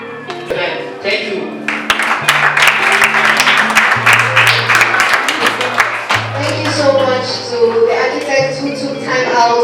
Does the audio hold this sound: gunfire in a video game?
no